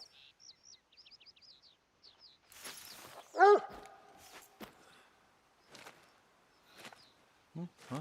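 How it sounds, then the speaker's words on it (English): Dog barking in the hunting game theHunter: Call of the Wild, a few sharp barks in the middle of the clip alongside bird chirps, whip-like game sounds and short bursts of talk. "Dog's barking and the dude's not even moving."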